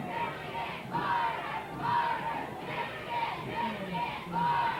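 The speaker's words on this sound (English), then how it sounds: "As the Robinson crowd picks up the noise a little bit" Crowd at a 1993 Robinson high school football game against Oblong cheers and roars on a cold Halloween evening, a steady distant swell of many voices rising and falling in waves.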